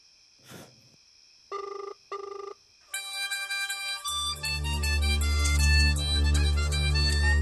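A mobile phone's incoming-call alert: a few short beeps and tones, then a loud melodic ringtone with a deep bass line that keeps playing, close and clear with no speech.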